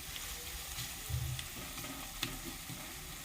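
Onions frying in a pan and stirred now and then, a quiet even sizzle with occasional soft scrapes and a faint low thump, no voices.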